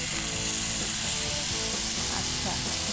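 Chicken sizzling in about a teaspoon of oil in a pan, a steady, close, bright crackle and hiss that runs without a break, with faint stirring clinks and no voices.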